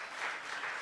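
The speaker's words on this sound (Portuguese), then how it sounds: "Você pode aplaudir Jesus?" A brief burst of crowd applause at a church service, many hands clapping together in a dense, steady patter that sounds somewhat distant.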